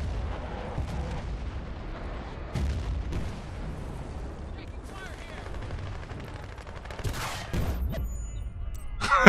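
Rocket launches and explosions in Battlefield: Bad Company 2, a dense wash of rumbling blasts and gunfire with a few sharper bursts, loud throughout beneath indistinct voices.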